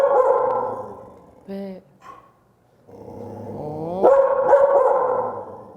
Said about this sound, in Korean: 그만 짖어.